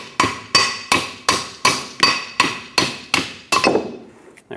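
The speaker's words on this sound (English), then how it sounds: "Use a hammer, tap it the rest of the way." A hammer strikes a ball joint on a 2000-2005 Ford Excursion nine times in an even rhythm, each blow a sharp metallic ring that decays quickly. The last tap is slightly softer and duller.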